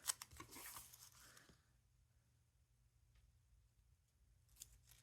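Scissors snip through washi tape close up, with a quick crisp cut at the start followed by quiet, faint handling sounds.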